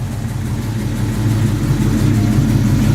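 A classic car's engine built for reliability with an aggressive cam profile runs steadily nearby, a loud low rumble that swells slightly louder toward the end, with no talking over it.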